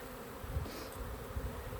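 Honeybees from an opened backyard hive buzz in a low, continuous drone at close range, swelling slightly in two brief pulses with no talk over it.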